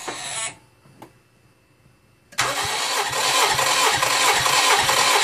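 A restored diesel engine cranks over and fires into loud, steady running during a compression test. After a short whir and a knock, it catches at about 2.4 seconds and keeps running close and dense to the end.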